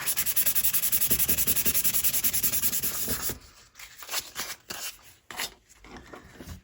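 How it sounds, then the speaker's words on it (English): Paint chips being sanded off paper in a rapid, even back-and-forth rubbing rhythm for about three seconds, then slower, scattered scraping strokes; close and fairly quiet with no speech. "I just pulled a few paint chips. So let's just sand this off quickly."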